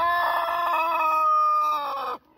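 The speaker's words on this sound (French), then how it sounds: "Mais il y a 2 poules dans la cabane." A Brahma rooster crows loudly and close inside a coop, one long drawn-out call that ends abruptly, with no one talking.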